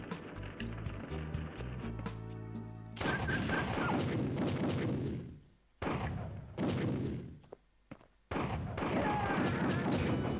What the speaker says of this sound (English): Oh yeah, rocket launcher.